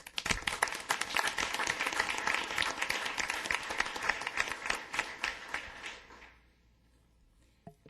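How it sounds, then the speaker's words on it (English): Round of applause at a city council meeting, steady dense clapping from the room for about six seconds before fading out, followed by near silence and one faint tap. "he needs a round of applause"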